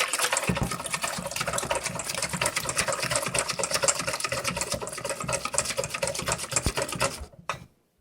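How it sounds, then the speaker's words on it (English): Eggs and milk whisked briskly in a bowl for a gluten-free fish batter, a steady rapid clatter of the whisk against the sides running continuously up close before stopping abruptly near the end. "Give it a quick whisk."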